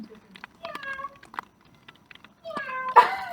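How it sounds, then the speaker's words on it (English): A large cat meows several times indoors, drawn-out calls with short pauses between them, the last one louder, along with faint clicks and quiet background sounds. "It's a big kitty."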